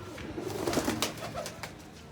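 Pigeons coo close by in a soft, continuous, throaty burble with a few louder rolling notes, with no talk.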